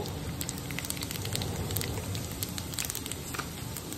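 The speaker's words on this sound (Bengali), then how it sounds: "এখন তেলে জিরে ফোড়ন দিয়ে দেব।" Cumin seeds sizzling in hot oil in a home kitchen pan, a dense, steady crackle and spatter like rain, close and fairly quiet.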